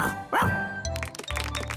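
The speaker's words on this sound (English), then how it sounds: "He rolls on his back and he barks a lot." A cartoon ladybird barks like a dog, giving a short, loud yelp followed by lower bark-like sounds over soft background music.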